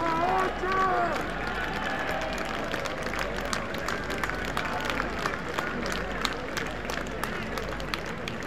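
Sustained clapping from a school audience at a 125th Founder's Day ceremony, a dense, even patter of many hands heard from a distance with a slight crowd murmur beneath.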